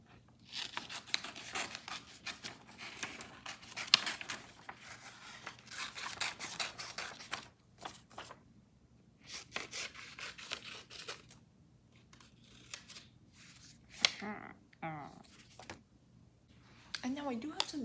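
Scissors snip repeatedly through paper sketches in bursts of cutting and rustling, close to the microphone, with brief pauses and faint talk in between.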